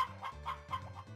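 A hen in a barn in the Harvest Moon Back to Nature video game gives a quick series of four or five soft, tonal, slightly synthetic clucks in a steady rhythm.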